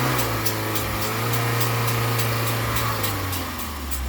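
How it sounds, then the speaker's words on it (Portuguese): A car engine with a knocking noise revs steadily in a loud, continuous drone with a faint rhythmic ticking running through it, heard close up with no talking. "Que batedeira é essa do motor?"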